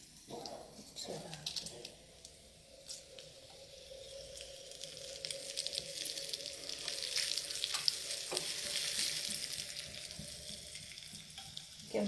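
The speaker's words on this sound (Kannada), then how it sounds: "ಸ್ವಲ್ಪ ಪೆಪ್ಪರ್ ಪೌಡ್ರು ಎಲ್ಲ ಒಗ್ಗರಣೆಗೆ ಹಾಕ್ಬಿಟ್ಟಿದ್ದೀನಿ" Cumin and pepper powder are tempered in hot oil, giving a soft continuous sizzle that grows louder midway, with light stirring scrapes and faint talk in the background.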